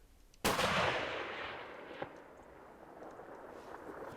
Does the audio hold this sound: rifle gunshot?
yes